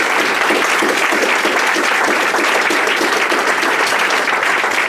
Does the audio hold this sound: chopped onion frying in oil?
no